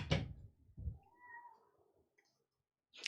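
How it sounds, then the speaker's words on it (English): A house cat yelling with a loud, drawn-out meow, wavering and tonal, framed by a couple of sharp knocks or bangs nearby, then a brief quiet before another thump. "my cat is yelling"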